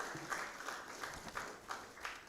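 Audience applause at a Kisii University innovation week ceremony, a steady spread of clapping from a crowd with bursts of louder claps, fairly faint and distant in a large hall.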